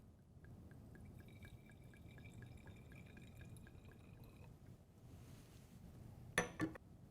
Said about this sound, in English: Next, we'll measure 50 milliliters of the methyl alcohol into our flask.